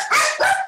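Dogs bark twice in quick succession, two sharp, fairly close yips with nothing else heard.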